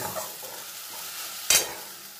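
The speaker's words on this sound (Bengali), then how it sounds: "দিয়ে সব কিছু একসঙ্গে খুব ভালো করে কিছুক্ষণ সময় ধরে কষিয়ে নেব" Masala cooking down in a pan with a splash of water added, a soft steady sizzle with faint scraping of stirring and one brief louder hiss near the end.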